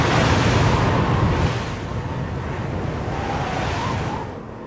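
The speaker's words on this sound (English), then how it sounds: "pushed by the rising wind and waves" Rough open-ocean surf and rising wind at sea as weather worsens around a swordfishing longline boat; a loud, steady broadband roar that eases slightly after the first second and a half.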